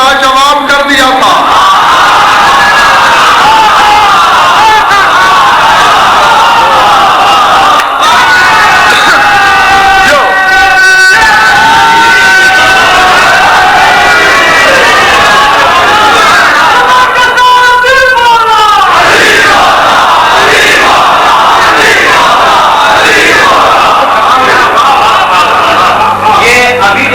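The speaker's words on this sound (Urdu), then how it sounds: "ڈسٹربنس ہوئی ہے اس وجہ سے کہ دونوں یونین کونسلوں میں نعرے لگ رہے ہیں" Crowd at a religious majlis gathering raising slogans in unison across the room, a dense ongoing roar of many voices with rhythmic surges and shouted bursts, loud and continuous throughout.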